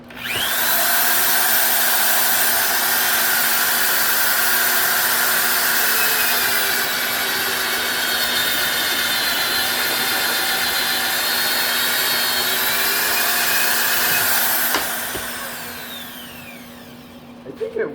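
A homemade DIY boring machine whines steadily while drilling a hole, a loud continuous motor drone holding for about fifteen seconds before winding down, with a few clicks at the end.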